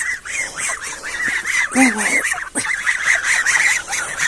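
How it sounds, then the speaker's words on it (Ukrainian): A flock of geese honks rapidly and continuously nearby, their calls overlapping, with a voice briefly cutting in midway. "Гуси, ну гуси."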